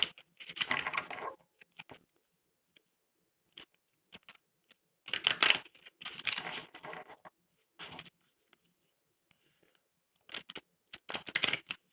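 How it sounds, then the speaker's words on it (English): Tarot cards shuffled by hand in several quiet, crisp bursts of riffling and patter, separated by pauses and heard close up. "Let's shuffle some cards here."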